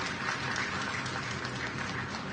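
Steady, dense applause from an audience at a National Work Zone Awareness Week ceremony, a continuous even wash of clapping at moderate distance with no voices standing out.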